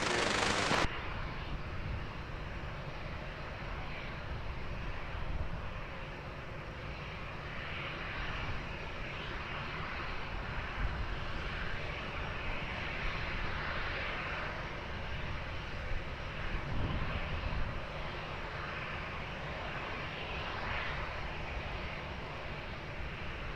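A Ryanair passenger jet lands on runway 20 at Lisbon Airport, producing a loud, sustained engine roar that holds steady throughout, with no voices present.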